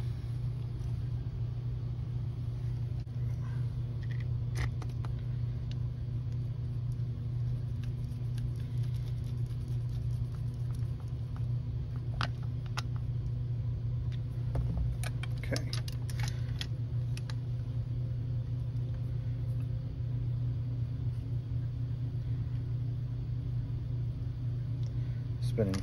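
A LionChief Plus GP-7 O gauge diesel model locomotive motor spins freely with its truck assembly attached, a steady low electric hum with occasional light clicks and taps from handling on the workbench.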